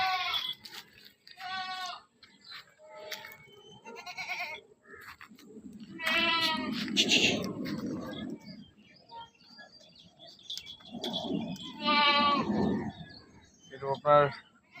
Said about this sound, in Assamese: আপোনাৰ দুটা ক্ৰছ ছাগলী, মই ক্ৰছ ছাগলী আনিলোঁ।